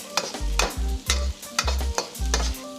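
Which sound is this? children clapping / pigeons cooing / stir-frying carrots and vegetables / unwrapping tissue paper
stir-frying carrots and vegetables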